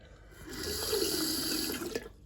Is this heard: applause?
no